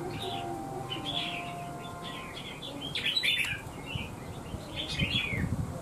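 Red-whiskered bulbuls chirp in short repeated bursts of bright whistled notes over a faint rustling background, some calls close and clear, others softer, with no talking.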